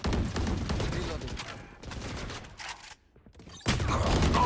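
Video game gunfire crackles in rapid bursts of shots, dropping out briefly before a loud final volley, with a player's voice talking over the action.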